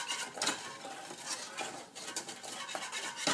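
A whisk scrapes and clinks against a pot of spiced soup with cinnamon, chili and curry leaves in quick, irregular strokes, faint and close with no talking.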